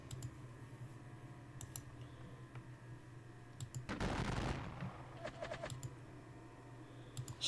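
Troops firing in the WDS Gettysburg strategy game: a few sharp isolated reports, then a louder noisy volley burst in the middle, followed by more scattered shots over a constant low background hum.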